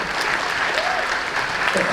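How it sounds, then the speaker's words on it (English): A convention panel audience at Smash Con 2022 applauds in a dense, steady burst of clapping, close and fairly loud throughout with faint voices mixed in. "let's give him a round of applause for that"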